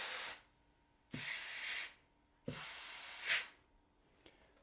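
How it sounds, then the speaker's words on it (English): Compressed air blasts into the oil pump slot of a Toyota A340 transmission in three separate hissing bursts, each lasting about a second with short quiet gaps between, close and fairly soft. "We have to put that compressed air into this slot on the oil pump here."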